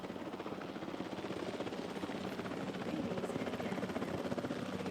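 Steady, close helicopter rotor drone in Jurassic World Evolution 3, a continuous dense whirring buzz that holds level throughout with no pauses.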